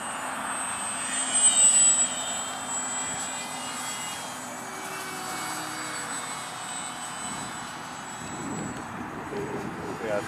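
A radio-controlled Tu-144 supersonic transport model jet flies past with a steady whining turbine roar, moderately distant and fairly even, with people chatting nearby.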